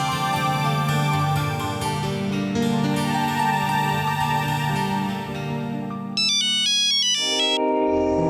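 A phone ringtone plays a repeating electronic melody, loud and close, ending with a short burst of high chiming notes.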